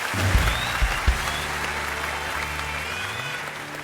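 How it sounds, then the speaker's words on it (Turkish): A burst of clapping from a small crowd, loud at first and then thinning out into a few scattered claps. "alkışlar gelsin. Hadi alkışlar"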